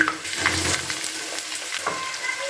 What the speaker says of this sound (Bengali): এবার আমি ওর মধ্যে দিয়ে দিচ্ছি পেঁয়াজ কুচি